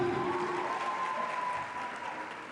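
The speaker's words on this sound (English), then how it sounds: "Please keep clapping, keep clapping." A conference audience claps to welcome a speaker at a teacher event, a dense burst of applause that thins and softens toward the end.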